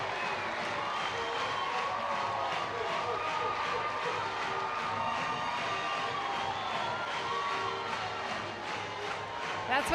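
A stadium crowd at a college softball regional game in Athens roars and cheers after a grand slam home run, a loud, sustained wall of voices and applause over a commentator speaking throughout.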